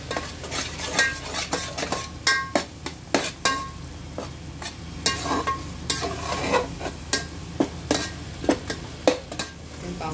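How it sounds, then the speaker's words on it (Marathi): Spiced masala for misal pav roasting in oil in a pan, a steady sizzle broken by repeated sharp scrapes and clinks of a spoon stirring against the metal, close and moderately loud with no talking. "तेल सुटेपर्यंत आपण छान भाजून घेऊया याला।"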